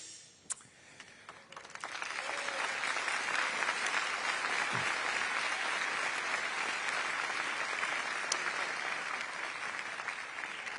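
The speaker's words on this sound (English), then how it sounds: "When I pause, it's because they're clapping and chanting Libertad." A large audience at a business forum claps and chants 'Libertad' for a Nobel laureate speaker. The applause swells after a quieter first two seconds, then holds as a dense, loud, steady roar through to the end.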